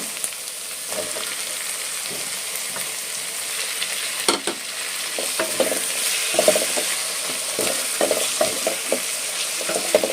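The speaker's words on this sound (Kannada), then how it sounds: "ಇಷ್ಟು ಫ್ರೈ ಆದಾಗ ಇದಕ್ಕೆ ಟೊಮೊಟೊ ಹಾಕ್ಕೋಬೇಕು" Pumpkin and tomato frying in a pan for a sweet pumpkin gojju, with a steady close sizzle and intermittent scraping and stirring knocks throughout, no voices.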